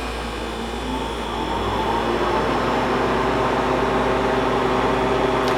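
A home freeze dryer motor hums steadily with a low mechanical drone and faint whine, growing slightly louder after a moment, running continuously without speech.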